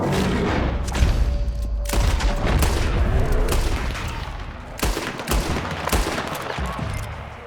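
Dense gunfire in the Red Dead Redemption 2 video game, with rapid overlapping shots and heavy booms in a loud, chaotic fusillade that keeps going throughout, with brief gaps between bursts.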